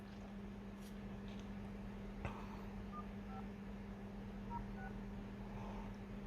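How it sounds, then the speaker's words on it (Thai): Dialing tones on a Huawei Nova Y70 smartphone fitted with an AIS SIM, a few short separate beeps spread through the clip over a steady low hum, with no voices. "แล้วผมจะลองโทรเข้าโทรออกดูนะครับ"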